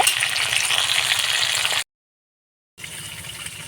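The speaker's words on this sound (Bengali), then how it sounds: "এমনিভাবে আমি সব মাছগুলোকে ভেজে তুলে নেব" Fish frying in hot oil in a kadai gives a steady, close crackling sizzle that cuts out for about a second, then resumes at a slightly lower level.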